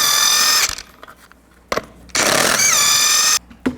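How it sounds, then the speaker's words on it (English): An impact wrench with a 22mm socket removes lug nuts from a 1999-2007 Chevy Silverado 2500. It fires in loud, close, hammering bursts separated by short pauses and quieter clanks. "Take the lug nuts off, use the same 22mm socket."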